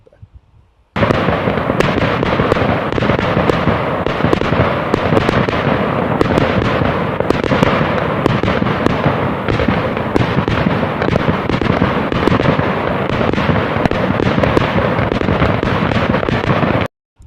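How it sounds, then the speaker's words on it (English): A fireworks display by a Thai fireworks company at a season-opening hockey celebration: dense, continuous crackling and popping bursts, loud and sustained for over fifteen seconds, with no talk over it. "Fireworks, great by the International Fireworks Company in Thailand."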